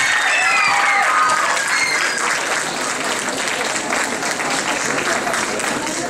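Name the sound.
audience applause after a dance performance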